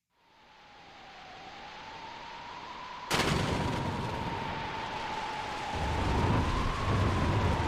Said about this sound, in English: Thunderstorm, thunder and rain